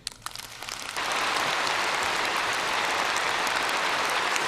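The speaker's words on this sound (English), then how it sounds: "Much applause." Loud, dense applause from a large audience following a political speech by Xi Jinping, rising sharply after a second of scattered claps and then holding steady and continuous.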